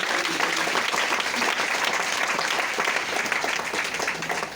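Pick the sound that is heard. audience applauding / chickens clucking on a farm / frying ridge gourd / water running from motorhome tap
audience applauding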